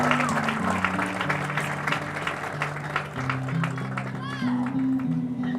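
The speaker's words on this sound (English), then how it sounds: "Let's give another round of applause for our 2024 homecoming representatives" A crowd claps for homecoming representatives at a Christian academy football game, with scattered applause running under a voice and steady tonal sound over the stadium speakers.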